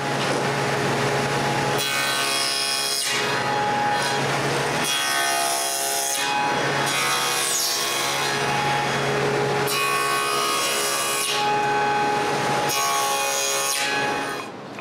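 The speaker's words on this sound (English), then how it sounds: "First thing to do is cut all the rails." Hand sawing of wood rails for a closed bookcase, loud rhythmic rasping strokes in bursts separated by brief pauses, close up with no talk.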